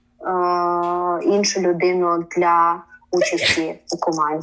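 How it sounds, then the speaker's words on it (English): A person sneezes with a sharp burst in the middle, surrounded by voiced speech before and after. "What do you say when someone sneezes?"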